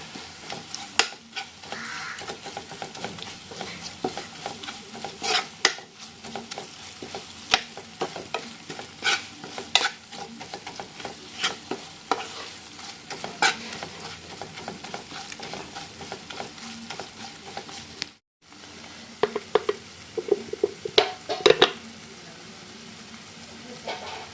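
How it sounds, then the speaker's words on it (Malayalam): Chicken coated in coriander and garam masala spices fries in a pan for chicken kondattam, with a continuous close sizzle and repeated scraping, clattering stirs throughout, and a brief pause near the end. "ഇതെല്ലാം മിക്സ് ചെയ്തതാണ് കേട്ടോ നന്നായിട്ട് ഇളക്കി കൊടുക്കാം"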